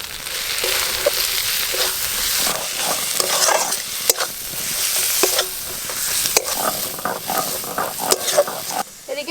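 Spice masala with ginger, turmeric, chilli and coriander powders is stir-fried in a pan, giving a constant sizzle under repeated scraping and stirring strokes, with a few sharp knocks of the spatula against the pan.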